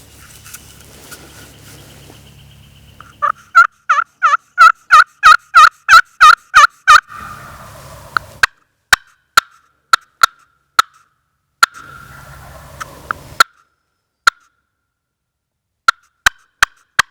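Wild turkeys gobble on the ground during a public-land hunt in Alabama, a burst of rapid rattling gobbles answered by sharp clucks and single calls spaced through a quiet backdrop, fairly close and loud.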